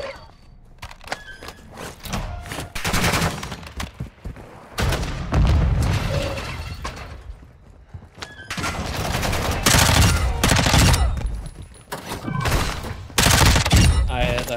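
Enemies fire shotguns in a video game firefight: heavy, booming blasts come in repeated clusters with dense volleys and quieter gaps, loud and close.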